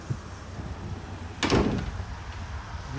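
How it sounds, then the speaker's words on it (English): Side cargo door of a 2022 Mercedes-Benz Sprinter cargo van pops open with a single close, sharp latch clack and a brief slide, followed by quiet room tone. "Pop this door open."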